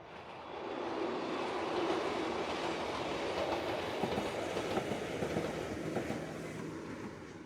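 A train runs steadily past a rice field in rural Wakayama, a continuous rolling rumble with faint clickety-clack of the wheels over the rails, fading in at the start and holding at a fairly loud level throughout.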